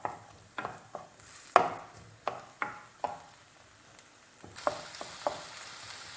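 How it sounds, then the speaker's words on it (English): Chopped onion fries in a pan for moussaka, a constant sizzle broken by a series of sharp spoon strikes and scrapes as it is stirred, close and fairly loud. "Give it a bit of a stir around."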